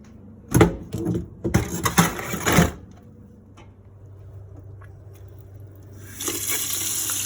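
Water splashes and gushes in several short bursts into an ice bath for home-brewing beer, then quiet handling noise, then a steady stream of running water starts at the end.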